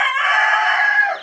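Hens with a brood of freshly hatched chicks on a small poultry farm, giving a steady, close, continuous run of clucking and peeping calls with no talk over them.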